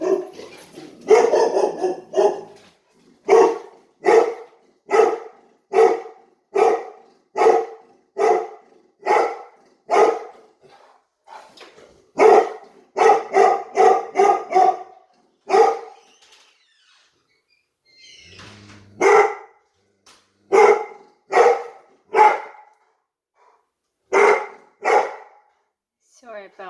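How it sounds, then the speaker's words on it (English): Several dogs barking indoors, loud close repeated yaps in rapid volleys with short quiet gaps, the barking going on for the whole stretch. "Sorry about my dogs."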